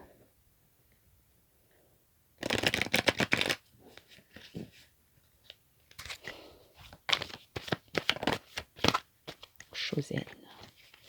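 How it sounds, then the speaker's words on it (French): A tarot deck (Osho Zen) is shuffled and cut by hand: a dense riffling burst, then quieter pauses and a run of crisp, snapping card flicks and slaps close by. "je coupe 3 fois, je coupe 2 fois et je prends la carte du dessus"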